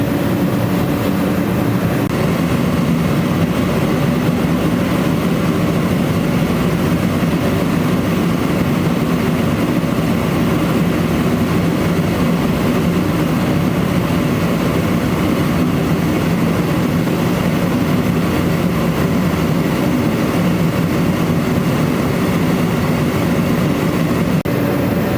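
A Dyna-Glo Deluxe heater runs inside a mini barndominium, making a loud, steady broadband roar with a low rumble that holds constant throughout without pause. No one speaks over it.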